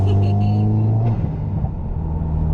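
A 2015 Subaru WRX with a newly fitted intake pulls hard in second gear. Its engine tone climbs loud and close for about a second, then settles into a rougher rumble as the car keeps going.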